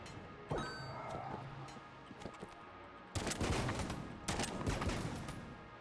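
Rapid bursts of gunfire echo inside a shop in the video game Enter the Gungeon, a few scattered shots early, then dense loud volleys in two stretches with metallic dings between.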